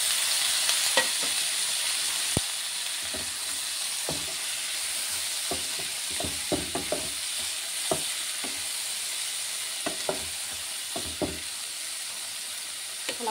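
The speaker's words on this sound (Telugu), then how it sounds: "పసుపు, కాకరకాయ ముక్కలు కూడా వేసేద్దాం." Bitter gourd pieces with turmeric fry in a pan with a constant sizzling hiss, while a spoon stirs them in irregular scraping knocks throughout, no voices heard.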